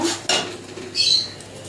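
Prawn malai curry masala being stirred and sautéed in a pan, heard as a few scraping clinks of a utensil against the pan and one brighter metallic scrape, with no one speaking.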